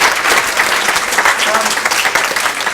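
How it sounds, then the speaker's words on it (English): Loud, close applause from a crowded audience, a thick continuous wash of clapping hands filling the short stretch without pause. "can we give Ginny Wright a round of applause?"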